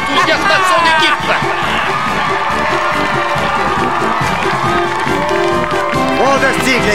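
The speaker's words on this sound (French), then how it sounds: "La foule locale manifeste son enthousiasme à son équipe" A home crowd at a school football game roars in support of its team, sustained shouting, whoops and scattered clapping filling the space at a steady loud level throughout.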